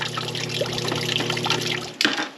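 Rainwater from an entire roof's gutter pours into a barrel in a steady, close splashing stream, with a brief louder gush near the end and no talk.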